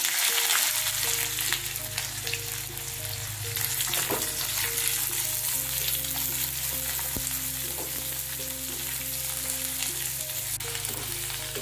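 Sliced onions and cumin seeds frying in hot oil in an Indian home kitchen, a steady close sizzle under a sustained low background hum, with a few faint clinks.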